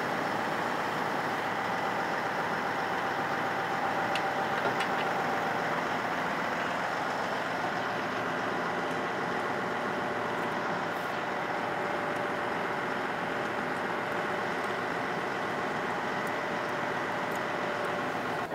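A Rotochopper B-66 grinder's engine runs steadily throughout, a loud, continuous mechanical drone with a constant hum and no pauses.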